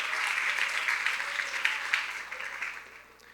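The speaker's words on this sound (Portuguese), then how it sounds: "palmas para os nossos amigos aqui que se encorajaram" A church audience applauding together, a soft, fairly distant wash of clapping that holds steady and then fades toward the end, with no talk over it.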